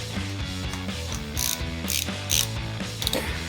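Close ratchet wrench clicking fast and rhythmically while tightening oil pump bolts on a Ford 302 V8 engine in a home garage, with a few brighter metallic ticks and no talk.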